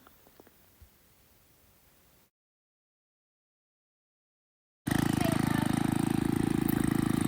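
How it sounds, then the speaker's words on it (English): A gas-powered Taz front tine tiller's engine kicks in abruptly after a quiet pause and runs as a loud, steady, close-up roar with a broad rushing drone to the end. "I'm using a Taz front time tiller here, which works really well."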